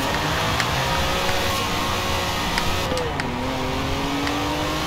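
A 1972 Lamborghini Jarama S drifting in Forza Horizon 4 revs hard under a constant hiss of tire noise, pitch dipping and climbing again as it slides, loud and continuous.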